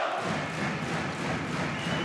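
A packed handball arena crowd at a France versus Hungary EHF Euro 2012 match roars raucously, a dense, steady wall of noise with thuds and shouts mixed in.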